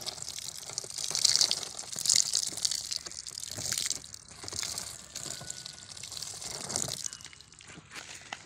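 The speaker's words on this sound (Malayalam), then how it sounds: "നമുക്ക് നമ്മുടെ പ്ലാന്റ് ചുവടൊന്ന് നനച്ചു കൊടുക്കണം ഡെയിലി കണ്ടോ" Water poured onto the soil at the base of a potted Landana plant, a steady splashing, gushing flow close by with soft crunchy soil sounds, swelling and easing in pulses over several seconds, no talk.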